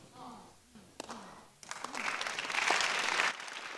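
A church congregation breaks into applause during a sermon, a broad rushing wash of clapping that swells and holds, following a speaking voice heard at the start.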